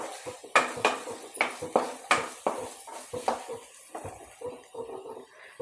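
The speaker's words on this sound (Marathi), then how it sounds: "गरम मसाला, धना पावडर परतून घ्यायचा आहे व्यवस्थित।" Garam masala and coriander powder are sautéed in a pan for a dried fish dish. A spoon clatters and scrapes against the metal in quick irregular strokes, close and fairly loud, and nobody speaks.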